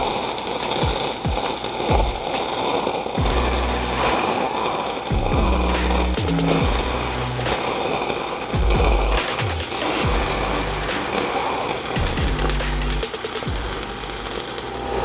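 A 6010 stick electrode lays a root pass on a 6GR pipe coupon, a loud, continuous crackling arc with intermittent low thumps over about fifteen seconds, no talk.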